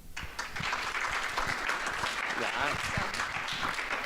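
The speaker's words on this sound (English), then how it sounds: "a small round of applause for Iris Peters." An audience at an arts festival claps steadily for several seconds, a dense patter of hands with faint voices underneath.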